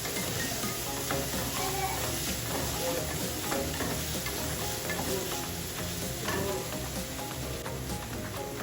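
Onions sautéing in a pan with salt, a dense, even sizzle with stirring underneath that holds steady throughout, close and loud with no clear speech.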